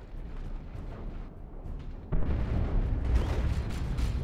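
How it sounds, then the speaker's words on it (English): Shotgun blasts and a grenade explosion in the strategy game Dawn of War 2: Retribution, a muffled rumbling battle that jumps louder midway with a heavy burst and continues as booming, crackling combat. "Termagants being shotgun blasted into a grenade."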